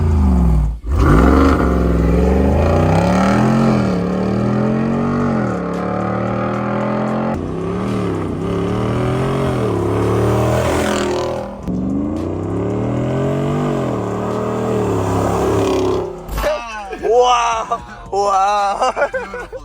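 A Jeep Wrangler 392 on 35-inch tires accelerates hard on a highway, its loud engine climbing through repeated rising pulls between gear shifts, with a voice speaking near the end.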